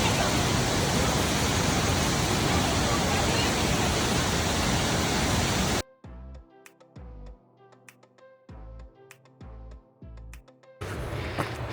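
A waterfall roars as a loud, steady broadband rush for several seconds, then cuts away to quiet ticking and tapping, before the rushing water returns briefly at the end.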